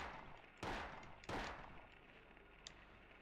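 Two loud gunshots ring out in Resident Evil 4, spaced under a second apart, each followed by a short decaying tail over a quiet game backdrop.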